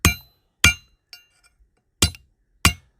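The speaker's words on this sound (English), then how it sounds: "I'm using a piece of steel over a block of wood set on the ground. And just flatten it out." A hammer strikes a piece of steel laid over a wood block on the ground, flattening it into an improvised arrowhead: four sharp, ringing metallic blows spaced unevenly, close and loud, with a faint clink between them.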